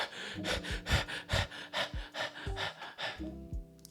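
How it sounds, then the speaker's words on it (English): Rapid, desperate breathing performed as a demonstration of anxious respiration, a quick run of sharp gasping inhales and exhales repeating about every half second, close and fairly loud, with no talking. "start breathing desperately, as if you were in a very tense situation, like this"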